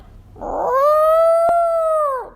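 An elephant call, a single loud, sustained, tonal trumpet that swells and then fades over about two seconds, heard alone with no talking.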